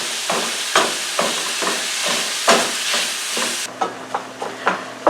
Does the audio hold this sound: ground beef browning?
yes